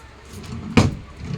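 A single soft knock and slide as a drawer or door on a modern kitchen cabinet is opened, brief and fairly close, surrounded by quiet room noise.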